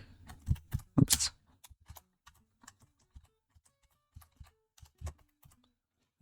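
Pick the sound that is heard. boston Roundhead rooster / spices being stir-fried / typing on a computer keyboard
typing on a computer keyboard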